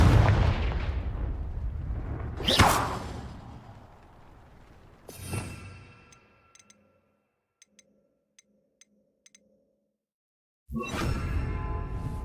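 Confringo fire spell blasts in the Hogwarts Legacy video game: two loud, sharp booming blasts followed by a rumbling tail, then near-silence with faint ticking, before a dense roar of action resumes.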